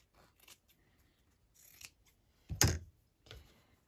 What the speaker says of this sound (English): So I'll just cut three rectangles that are similar.